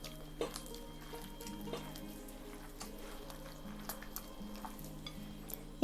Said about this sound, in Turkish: Tekrar güzelce karıştırıyorum